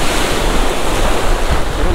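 Strong ocean waves break steadily on a rocky shore at a beach campsite, a loud continuous roar of surf with heavy wind buffeting the microphone.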